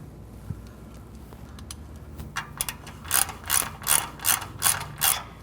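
A ratchet clicks in quick bursts while tightening catalytic converter bolts on a 2000 Honda Civic, starting with faint scattered clicks and building into a series of louder, evenly spaced ratcheting strokes close by.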